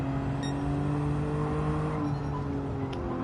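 Steady racing car engine drone in the video game Gran Turismo 7, with a low, sustained tone and faint higher whine, continuous and fairly loud throughout, no talking.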